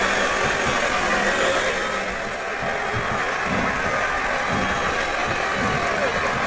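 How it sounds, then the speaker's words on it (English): Capacity arena crowd of about 10,000 at a televised wrestling show, a loud continuous roar of murmuring and chanting voices filling the space, steady throughout with rhythmic swells in the low rumble. "It sounds like this capacity crowd has something on their minds."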